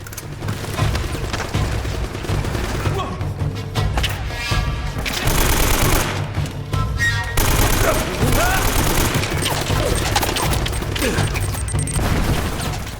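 Rapid bursts of gunfire and heavy grenade blasts overlap in a dense, continuous battle din in the video game Uncharted: Drake's Fortune on PS4, with short pauses between volleys.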